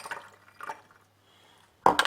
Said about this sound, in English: So first I'm going to throw beans on it.